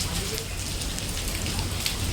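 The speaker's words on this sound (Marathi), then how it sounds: "गाईज खूप पाऊस पडत आहे." Heavy monsoon rain falls in a steady, dense hiss with scattered drop patter, loud and close throughout, and no one speaks.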